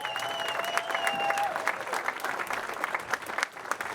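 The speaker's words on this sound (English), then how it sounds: "how about another nice round of applause for our 2 finalists?" An arena crowd at a state high school boys' final applauds the two finalists with steady, dense clapping that lasts throughout, and a brief sustained tone sounds over it early on.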